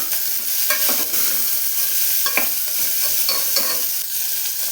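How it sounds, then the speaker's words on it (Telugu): Beans and carrots are stirred while frying in ghee for vegetable khichdi, giving a steady sizzle broken by irregular scraping strokes of the spoon against the pan. The sound is close, with no talking. "ఇదంతా బాగా కలియబెడుతూ ఉండాలి."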